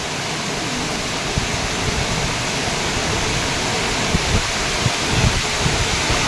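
Small waterfall and flowing stream water on a short hike, a steady broadband rush close by with faint scattered splashes throughout.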